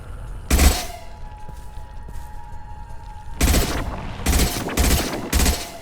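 Bursts of sci-fi gunfire in the Mass Effect 2 video game: one loud volley early, then after a quiet stretch a run of four heavy shots, loud and close over a low ambient hum.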